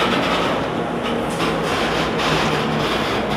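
Airport rail train at Toronto Pearson Terminal 3 passing through, a continuous broad rumble and rolling roar with faint rhythmic rail clatter, steady and fairly loud throughout.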